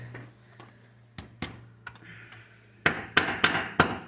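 A bent metal J hook for a bullnose Ford F150 is struck with a hammer on a hard surface, a few scattered taps first and then four loud, sharp blows in quick succession, close and without talk.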